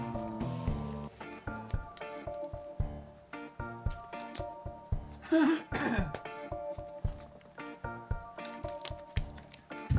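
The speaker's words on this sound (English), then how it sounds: "Hold on, I gotta cough again." A man coughs and clears his throat repeatedly during a livestream, the harsh bursts near and loud over an ongoing backdrop of music and game audio.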